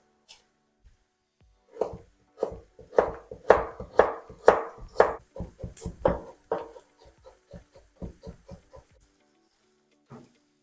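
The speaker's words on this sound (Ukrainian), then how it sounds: "Далі нарізаю морку соломкою." A knife chops a carrot into thin strips rapidly against a cutting board in a steady run of crisp, close strokes that slow and thin out toward the end.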